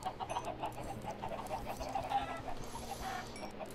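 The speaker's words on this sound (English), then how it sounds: "Oh, chickens. Get out of the way, buddy." Chickens cluck repeatedly in the blocky video game Blockville, a steady stream of close, busy fowl calls over a low game background hum, with no talking.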